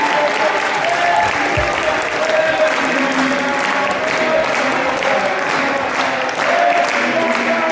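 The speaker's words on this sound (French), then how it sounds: "vous pouvez vous applaudir" A crowd at a tournament awards ceremony applauds, sustained even clapping from many hands filling the whole stretch with no break, loud and close.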